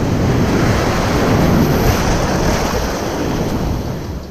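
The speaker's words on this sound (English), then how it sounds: "you'll probably surf smaller, more gentle waves like this" Ocean whitewater at a beginner surf spot, with a broad continuous roar of breaking waves that swells slightly and then eases, loud and close, with some wind buffeting the microphone and no voices.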